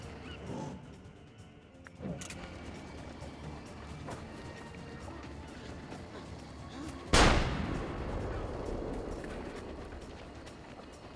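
A single sharp gunshot in the Assassin's Creed Revelations video game cracks out loudly partway through, standing out against a low, busy game ambience with scattered footsteps and clatter.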